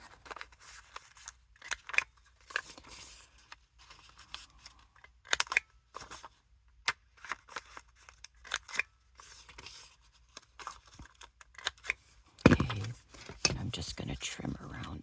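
Scissors snip and trim around a piece of lightweight paper ephemera, a scattered run of short, crisp cuts close by, with quiet, whispery handling noises between them and a louder rustle near the end.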